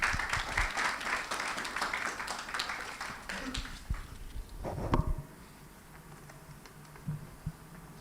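After a report launch presentation, the audience claps in a fairly loud patter that swells, peaks near the end and cuts off, leaving quiet room sound with faint knocks.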